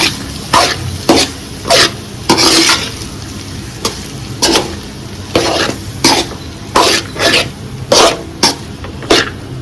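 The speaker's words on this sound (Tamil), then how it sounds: "ஸோ ரைஸ் ஆட் பண்ணலாம், நல்லா மிக்ஸ் பண்ணி கொடுத்துடலாம்" Half-cooked rice gets mixed into egg in a hot pan, loud rhythmic scrapes of a spatula repeating every second or so over a light sizzle, close up with no voices.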